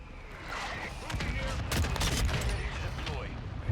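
An M16 fires repeated sharp bursts in Call of Duty: Modern Warfare II, clustered shots rising to a denser volley near the middle amid layered game noise and a speaking voice.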